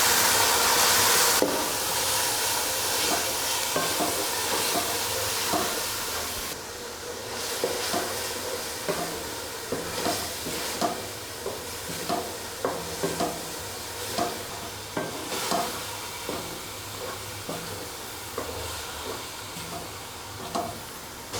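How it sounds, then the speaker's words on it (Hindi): Minced keema sizzling and frying in a pan while being stirred, a steady hiss with repeated scraping spoon strokes, close and continuous, no talk. "इसको हमने 5 से 7 मिनट अच्छी तरह से भूनना है ताकि जो इसकी स्मेल है और कच्चापन है वो अच्छी तरह से ख़त्म हो जाए।"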